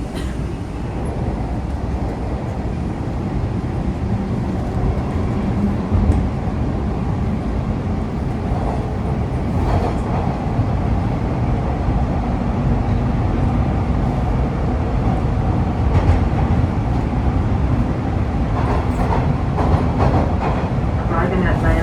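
A Toronto Bloor-Danforth subway train running between stations, heard from inside the car: a loud, continuous rumbling roar of wheels and motors on the track, steady throughout with faint rattles and squeals riding on top.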